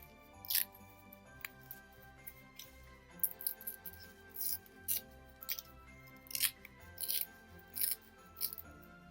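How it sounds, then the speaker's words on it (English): Paper being torn into a long strip for a craft tree, a series of short, crisp ripping bursts spaced over quiet background music. "when you tear your paper, make sure you have your index finger, your pointer finger down against where you're tearing"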